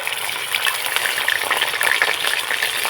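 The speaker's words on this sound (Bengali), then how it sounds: "ফোড়নটা হালকা নাড়াচাড়া করে ভেজে নেব" Whole spice tempering frying in a pan and being stirred: a loud, dense crackling sizzle, close and continuous, with a quick spattering texture throughout.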